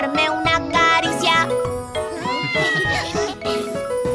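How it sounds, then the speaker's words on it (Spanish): A cartoon cat in a Spanish-language children's song gives a series of bright, drawn-out sung meows with gliding pitch, loud and up front over a bouncy musical backing with light jingling. "Yo soy un gato pelirrojo."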